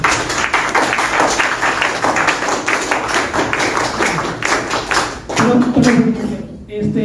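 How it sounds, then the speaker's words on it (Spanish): Audience at a talk on electoral regulations applauds, a dense stretch of clapping from a crowd that thins out and fades toward the end. "Un aplauso, por favor."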